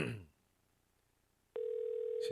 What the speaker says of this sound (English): That's a better ring.